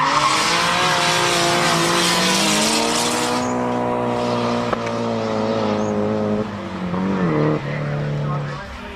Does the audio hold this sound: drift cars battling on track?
yes